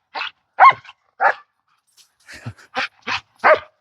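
A Rottweiler barks in short sharp bursts at a disc golf course, about eight barks, some in quick pairs and one after a brief pause, loud and fairly close with no one talking.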